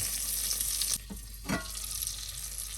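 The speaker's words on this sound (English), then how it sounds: "When shallots almost ready, I also gonna add garlic to saute." Shallots and garlic sautéing in a pan, a steady close sizzle with a brief drop and a soft clatter partway through, no voices.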